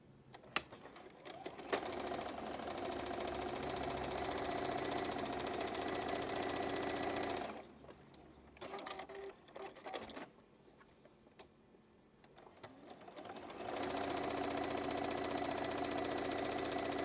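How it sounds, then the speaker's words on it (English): A sewing machine stitches quilt block pieces together. It runs in a long steady whir, stops, gives a few short bursts, then settles into another sustained run, close and alone. "I will sew these together"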